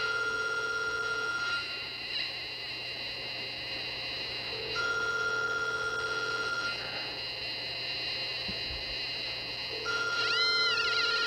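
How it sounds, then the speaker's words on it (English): Phone placing a call, with steady electronic tones and repeating ringback pulses in a regular on-off pattern, fairly clear and close with a faint background hum. "That's what it does when you make a phone call."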